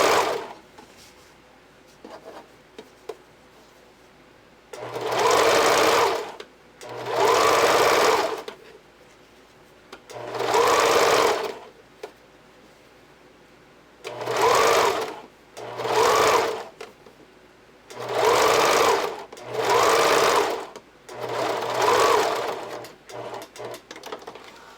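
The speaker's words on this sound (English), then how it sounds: "as you're zigzag stitching it on, you're pulling on the elastic" A sewing machine zigzag stitching elastic onto children's underwear runs in about nine short bursts of rapid whirring, separated by quiet pauses, close and clear with no talk.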